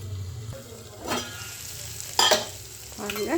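Onion, tomato and peanuts sauté in oil for a tamarind-style peanut curry, a low sizzle broken by a few scraping stirs of a spoon in the pan, close by, with a brief spoken word.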